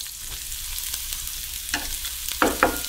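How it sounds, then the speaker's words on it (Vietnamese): Shredded cabbage stir-fried with a little butter in a pan as filling for fried eggs, giving a steady low sizzle with a few sharper scraping stirs near the end, close and alone without talk. "Mình xào cho nó vừa chín tới"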